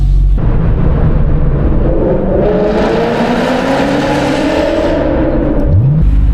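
A Corvette fitted with a short throw shifter revs hard and accelerates inside a tunnel, the loud engine note climbing and droning with booming echo, then dropping away before a final rising rev.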